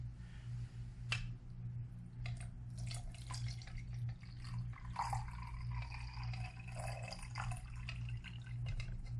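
Water splashes and trickles into a metal pot, running steadily with small clinks and drips over a low background hum.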